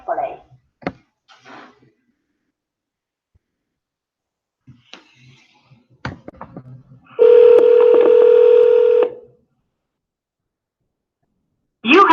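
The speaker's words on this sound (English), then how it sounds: "We're gonna call him right back." A phone call is placed: a few soft taps and clicks, then a loud steady ringback tone lasting about two seconds, followed by another tone starting at the very end, with quiet moments between.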